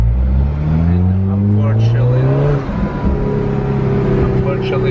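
A 2018 Alfa Romeo 4C sports car drives over a bumpy road, its engine note audible up close and steady, rising and falling as it shifts through gears, with no talk over it.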